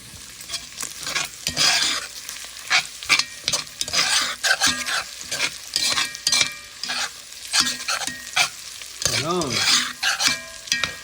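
Garlic caramelizing in a pan with beans and ham hocks, a steady close sizzle broken by repeated scraping stirs and clattering utensil strokes, loud and busy throughout with no talking.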